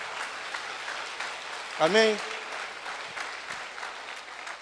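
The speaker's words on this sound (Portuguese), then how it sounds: "Você pode aplaudir o Senhor por isso?" A church congregation claps steadily throughout a sermon, the applause continuing at moderate level while a preacher's voice briefly calls out over it.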